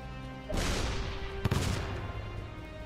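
A Mega Quake weapon fires in ShellShock Live, setting off a loud, sustained rumbling blast that starts abruptly and carries on to the end, with a sharp impact crack partway through.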